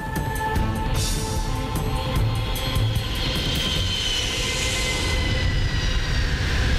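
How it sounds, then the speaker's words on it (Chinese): A cartoon passenger airplane takes off in a fairy-tale world, a loud sustained engine roar with a rising whine building steadily and no voices. "童话世界的第一架客运飞机已经成功起飞了。"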